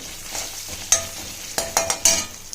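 Spices such as asafoetida and turmeric sautéing in a pan for a buttermilk okra curry: a soft sizzle with several sharp stirring scrapes and clinks in the second half, no talking.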